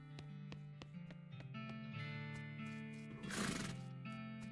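A horse in the West of Loathing video game lets out a single whinny over a looping, plucked in-game music track, with a few hoof-like knocks before it.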